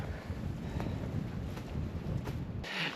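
Strong storm wind gusting through woodland, a steady loud roar with buffeting against the microphone and no voices.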